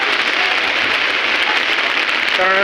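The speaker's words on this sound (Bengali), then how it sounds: "রাজশাহী অঞ্চলেও হচ্ছে এরকমভাবে বৃষ্টিপাত।" Steady, dense rain pours onto a street in Bangladesh's Rajshahi region, a loud continuous hiss with no voices over it.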